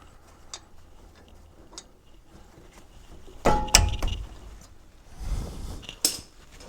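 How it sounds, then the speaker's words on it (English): Electric ratchet whirring in short bursts as it loosens 17 mm bolts on the front suspension of a Ford Excursion Super Duty with twin I-beam front end, close and fairly loud against a quiet garage with a few light clicks. "I'm going to get in here with an electric ratchet"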